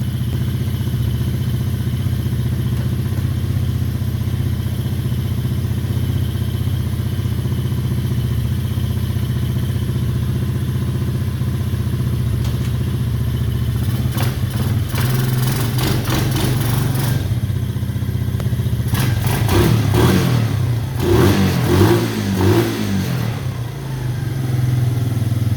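A Honda TRX200SX ATV engine idles with a steady, close mechanical drone and clatter, then revs in a couple of short bursts near the end before settling back.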